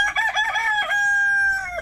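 Roaming chickens in Titirangi crow loudly and close by, with a drawn-out cock-a-doodle-doo call and some clucking, clear and free of speech.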